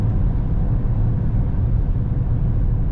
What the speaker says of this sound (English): Lots of power. Not overly noisy. Sounds like stock exhaust to me.